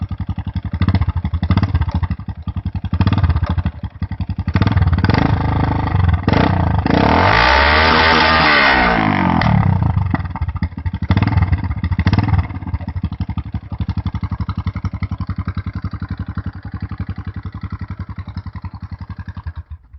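A Honda Wave 125i motorcycle on its stock exhaust idles close by with a rapid, even putter, then rises through a sharp rev and falls back to a steady idle.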